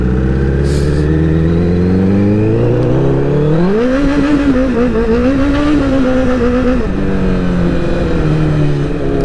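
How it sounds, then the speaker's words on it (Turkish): A 1000RR superbike on a snowy, salted road rises in pitch as the throttle opens, holds a loud high-revving wail for several seconds, then eases off, close-up and unbroken with no talking. "Ben burada gazlıyorum"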